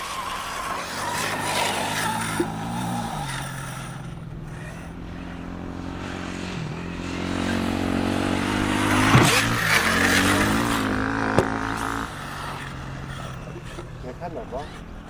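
An Arrma Talion SWB radio-controlled car, run on 4S and 6S batteries, drives and accelerates with whining electric motor pitch rising and falling in several bursts, fairly close, while people talk over it.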